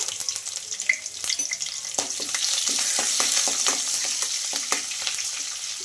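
Green chillies and curry leaves crackling and sizzling in hot oil with cumin and mustard seeds, a close, busy hiss dotted with sharp pops and spatters throughout.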